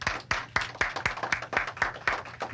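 Audience clapping for dancers at a dancewear fashion show, a steady run of sharp claps about four per second that carries on without pause and sounds moderately close.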